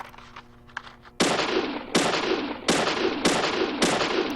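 Five evenly spaced, loud gunshots from the video game Deadly Premonition fired at a shooting range. Each sharp report cracks and rings out for a moment before the next one comes, after a quieter stretch of small game sounds.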